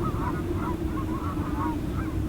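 Birds away from a lake on a very windy day give a series of repeated honking calls, fairly close, over a steady roar of wind.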